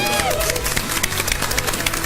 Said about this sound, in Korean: 박수 소리가 굉장히 큰데요